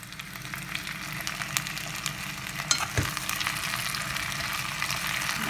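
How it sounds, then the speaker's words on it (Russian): Tomato-tinted sauce for homemade strudli dumplings being stirred in a hot pan. A constant close sizzle and hiss carries the whole stretch, with one brief clatter of the spoon midway. "Так перемешиваем"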